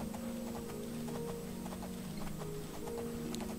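Horse hooves clip-clop steadily in the video game Oblivion, an even trotting rhythm of soft clops over a sustained ambient game drone.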